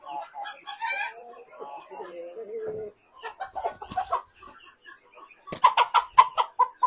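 Hens, including Caipirão Gigante birds, cluck and squawk in a farm pen, close and loud in irregular bursts with a rapid cackling run near the end, while someone talks between the calls.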